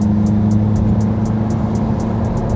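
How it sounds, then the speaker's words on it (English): A Ferrari F430 with a gated manual shifter drives along, its engine giving a loud, steady close drone from inside the car. No voices are heard. "driving this thing, I want to rev this all the way to the sky and keep shifting this gated"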